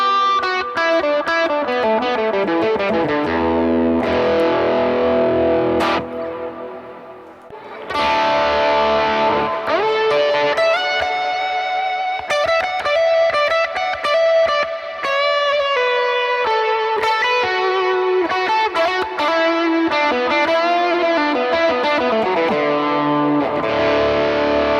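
An electric guitar plays through a drive pedal, with compressor and Duke of Tone pedals also on, into a Tone King Imperial amp, giving sustained, overdriven chords and ringing lines with effects, loud and continuous with no talking.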